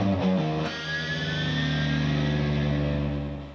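Electric guitar with a tremolo bridge: a string is bent upward while open strings keep ringing and drift out of tune, producing a sustained, slightly distorted, wavering chord that holds for a few seconds.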